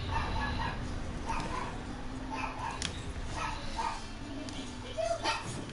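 Several dogs shut in crates in a dark, filthy basement strewn with trash bark in short yips and whimper, in scattered bursts over a steady background hum.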